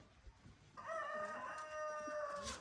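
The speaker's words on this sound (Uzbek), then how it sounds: "Mana xo'roz ham bor ekan mana." A rooster crows once, a drawn-out cock-a-doodle-doo rising and fading over about two seconds, fairly faint against quiet outdoor background noise.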